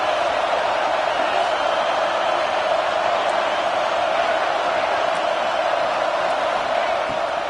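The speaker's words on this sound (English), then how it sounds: "This crowd rising up, sensing that its defense needs some help." A large football stadium crowd at a college game swells into a steady, loud roar of cheering that holds for several seconds without a break, broad and distant-sounding.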